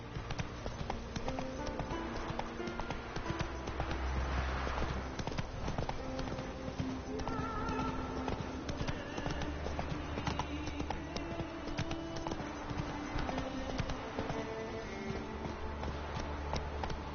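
In the video game Witcher 3, a horse's hooves beat out a quick, steady galloping clatter that runs for the whole stretch, with a faint tonal background underneath.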